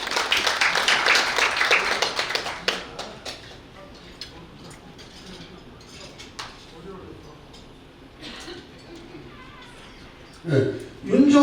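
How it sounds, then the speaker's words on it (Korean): A ceremony audience bursts into brief applause at a Korean press anniversary celebration, the clapping dense at first and fading away, followed by quieter room sounds and another short burst near the end. "다시 한 박수 부탁드리겠습니다."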